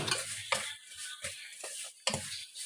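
Semolina (sooji) is stirred in hot ghee in a pan for halwa, making soft scraping, rattling strokes in irregular bursts with a faint sizzle, close and quiet.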